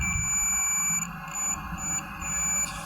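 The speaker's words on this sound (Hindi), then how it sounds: "तो ये आपको बीप सुनाई देगी मीटर में," A digital multimeter sounds its continuity beep while its probes touch both ends of a fuse, a loud, steady high-pitched tone held for about three seconds with a brief dip midway. No speech is present.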